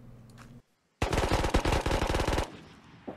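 A loud, rapid burst of automatic gunfire at a military camp in a video game, about a second and a half of sharp repeated shots that cut in abruptly after near silence.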